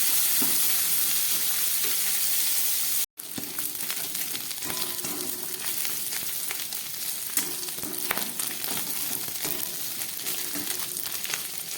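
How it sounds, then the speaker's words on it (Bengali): Dried fish sizzles steadily in hot oil in a pan while being stirred, a close, loud, continuous frying hiss with scattered clicks of the utensil and a brief break near the start. "খুব ভালো করে নেড়ে চেড়ে মাছগুলোকে ভেজে নিতে হবে"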